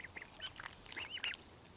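Ducks quack in a rapid cluster of short nasal calls while being fed outdoors beside raised garden beds, moderately near and fairly quiet, with no talking.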